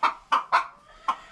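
A broody hen on a small Tennessee homestead clucks in four sharp, close bursts, three in quick succession and one after a short pause, with no talking.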